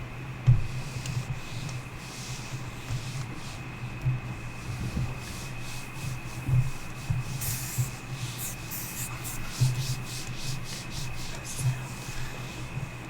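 Marker drawing on a board, steady scratchy rubbing strokes with a few brushes against an aluminum edge, close and moderately quiet over a faint steady hum, no talking.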